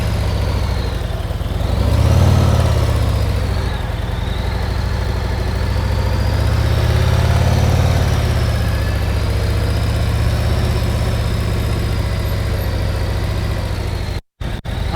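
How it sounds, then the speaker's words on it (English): Motorcycle engine idling and then easing away at low revs as the clutch is slipped in the friction zone, a steady close rumble that swells gently around mid-clip, with no talking. "Slowly release the clutch into the friction zone, and as soon as my motorcycle starts to move,"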